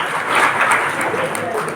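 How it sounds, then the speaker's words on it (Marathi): An audience at a student NSS camp closing ceremony claps for a successful blood donation camp, making a short burst of dense, even applause. Some voices are mixed into it. "त्याबद्दल आपण टाळ्या वाजवूया."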